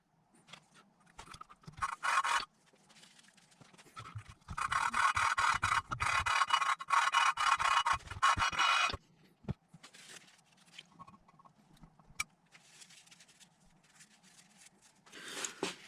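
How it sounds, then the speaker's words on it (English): Fine valve-grinding paste being worked by a lapping stick on an engine valve and seat in an RB20DET cylinder head: bursts of gritty rubbing and rasping scrapes, with a sustained loud stretch in the middle, close and with no talking. "Then we'll use our lapping stick."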